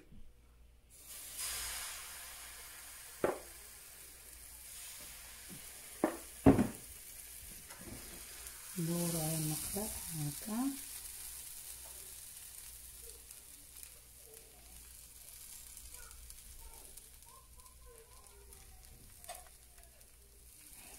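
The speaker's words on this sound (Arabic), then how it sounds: "نرش المقله شويه ديال الزبده ونصفر خفيفه ندير الخليط ديالي على حسب المقله اللي عندي" Crepe batter pours into a buttered frying pan and bursts into a loud sizzle midway, settling into a soft, steady frying hiss. Scattered clicks and taps come from the pan before and after.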